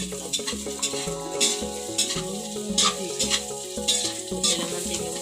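Pancit bihon rice noodles are stirred in a frying pan, with a spatula clattering and scraping in uneven strokes over a steady close sizzle of oil, and no talking.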